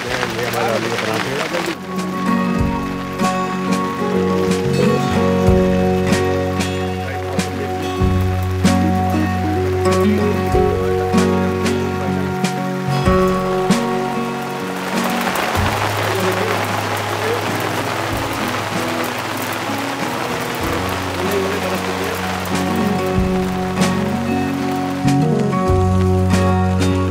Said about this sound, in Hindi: देखिए गाड़ी के ऊपर कितनी, मतलब कितने ओले गिर चुके हैं ये देखिए